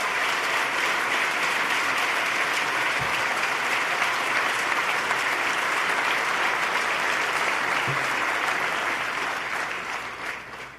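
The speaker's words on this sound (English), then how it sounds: "Let's give him a big round of applause and thank Sean Donovan" Sustained audience applause at a 2014 New York State of the State address, a dense, loud wash of clapping that holds steady and tapers slightly at the end, with no speech over it.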